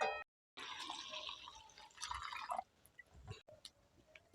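One liter of milk poured straight into a kadai for a Bengali pitha, a steady close liquid pour lasting a couple of seconds, then a few drips and soft clinks, with no talking.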